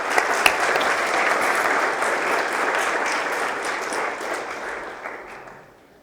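School award assembly audience applauding students receiving academic subject awards, a dense, sustained round of clapping filling the hall before fading away at the end.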